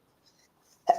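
A single short, sharp sneeze bursts out near the end after near silence.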